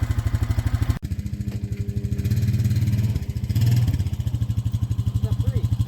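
An ATV engine chugs with a rapid, steady pulsing beat while being driven onto a trailer, swelling briefly as it revs, with a voice speaking over it.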